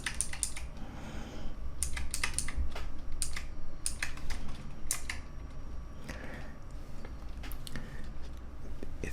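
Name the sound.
typing on optical mechanical keyboard with PBT keycaps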